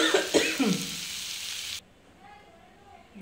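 Loud sizzling of water hitting a hot pan of frying fish in a home kitchen, a dense hiss with stirring clatter that cuts off abruptly partway, leaving faint quiet sizzle behind.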